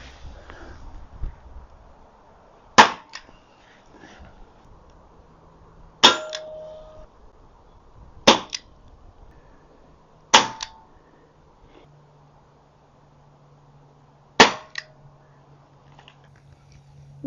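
A Bug-A-Salt salt gun loaded with Shred-Er reload fires five sharp, close, loud pops spaced a couple of seconds apart, each a crisp crack over quiet background with no talking.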